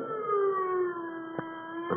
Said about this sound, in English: The sound of the sirens howled in his ears like the wail of an avenging demon